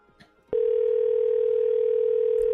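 A telephone line sounds a steady, unbroken electronic tone on a call, loud and continuous from the half-second mark to the end, with faint muffled sounds just before it starts.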